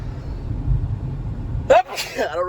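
A single sharp sneeze cuts through low background rumble, followed immediately by someone talking.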